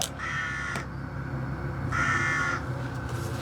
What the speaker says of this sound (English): noisy bird in the background